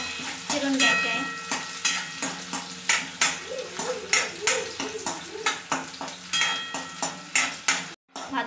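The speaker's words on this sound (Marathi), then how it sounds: "कांदा हिरव्या मिरच्या लाल होईपर्यंत आपल्याला फिरून घ्यायचे आहे।" Onion and green chillies being stirred and fried in a pan, with a steady sizzle and repeated scraping, clinking strokes of a spoon against the pan at a quick, regular rhythm, close and fairly loud.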